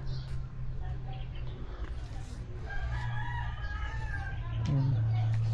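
A rooster crows over a steady low hum, with scattered clucks and faint background noise around it.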